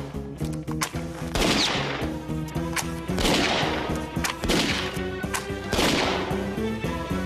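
Rapid cartoon gunfire rattles in loud repeated bursts over a busy musical score, with sharp cracks recurring roughly every one to two seconds throughout, no voices.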